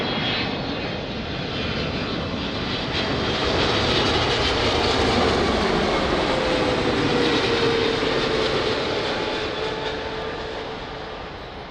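A Boeing 777 at Lisbon Airport, the jet engines as a loud, sustained roar that swells as it passes and slowly fades, with no voices over it.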